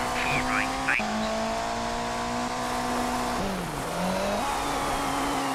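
A rally car engine drones and revs steadily on a slippery stage in the Colin McRae Rally 2.0 PC game, with pitch dips on gear shifts, brief tire skids, and someone speaking over it.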